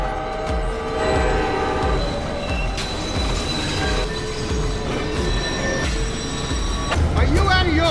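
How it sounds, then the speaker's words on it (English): A train speeding past in a film scene, rumbling wheels and squealing metal with sustained horn-like tones throughout, loud and close, building slightly toward the end. "a train came speeding toward us."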